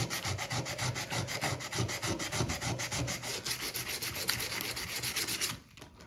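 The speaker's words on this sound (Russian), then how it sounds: "Также режущую кромку всю полируем," Sandpaper is rubbed by hand along the cutting edge of a tool in quick, even back-and-forth strokes, close and steady, stopping abruptly near the end with no talking.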